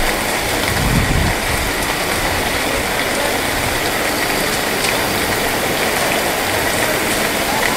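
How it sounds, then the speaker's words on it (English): Heavy rain pours down steadily on a holiday resort on Boa Vista, Cape Verde, a dense continuous hiss of drops drumming on surfaces with no pauses, loud and close throughout. "it rained and rained, poured and poured."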